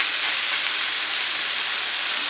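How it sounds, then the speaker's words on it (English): Pork medallions sizzle in a hot frying pan after being flipped, a loud, steady hiss of fat crackling that continues without pause and with no talking. "Once you get them all flipped, then we'll let them cook for 3 minutes on the other side."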